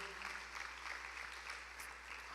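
A church congregation claps along through a worship service, a dense, steady wash of applause filling the room with no break.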